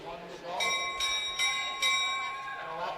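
At a long track speed skating championship, the final lap bell rings in a quick series of bright, metallic clangs, about four strikes roughly half a second apart, sounding over the arena's background noise.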